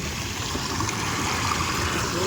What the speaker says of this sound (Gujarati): આ બધું તલાવનું પાણી આવે છે